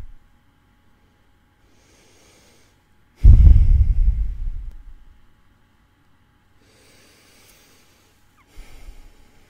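Slow, breathy exhalations during a stethoscope heart check in a cardiologist roleplay, with one long close breath out and a softer one later, separated by near silence.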